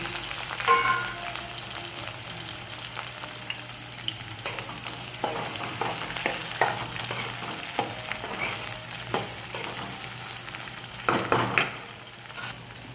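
Sliced onions with curry leaves frying in hot oil for masala dosa, a steady close sizzle with occasional stirring scrapes and clinks of a spoon in the pan, no voices.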